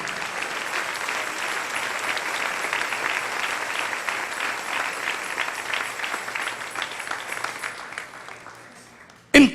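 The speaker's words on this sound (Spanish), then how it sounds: "Denle ese aplauso al Señor." A church congregation breaks into loud, sustained applause, a dense wash of clapping that holds steady for several seconds before fading away and cutting off abruptly.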